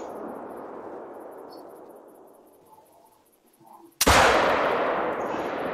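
.357 Magnum revolver in The Hunter: Call of the Wild fires a single loud, sharp shot that rings out and slowly decays, following a fading echo of a previous shot.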